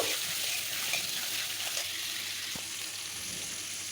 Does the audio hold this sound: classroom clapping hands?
no